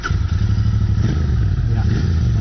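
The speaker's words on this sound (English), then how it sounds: "a brief press of the starter button quickly fires up the motor, and it erupts into a smooth but deep and offbeat pulse" Royal Enfield Interceptor 650 motorcycle idling after starting, its engine giving a deep, offbeat, loud pulse up close with a steady rhythmic throb.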